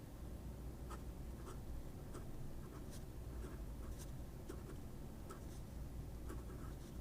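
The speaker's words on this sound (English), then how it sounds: "Oh, reverse writing." A fountain pen nib is dragged upside down across paper in reverse writing, making faint, soft scratching strokes in a steady series of short ticks over a low background hum.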